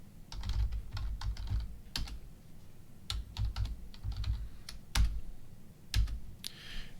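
Bursts of typing on a computer keyboard, quick clusters of close, crisp key clicks separated by short pauses, with no one talking.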